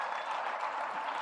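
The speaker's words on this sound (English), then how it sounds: "let's give him a round of applause as he comes up" An audience at a forum applauds as Thabo Mbeki comes up, a dense, even wash of clapping from many hands, steady and unbroken for the whole moment.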